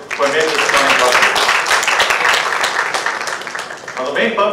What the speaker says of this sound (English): Can you have a round of applause for all those who have made this event possible?